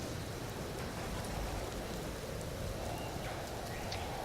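Steady rain falling in the Empyrion survival game under cloudy skies, a constant dense hiss with no breaks and no voices.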